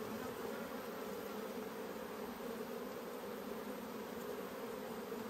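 Honey bees swarm and buzz around an opened hive during an inspection, a steady dense drone that holds evenly throughout with no voices.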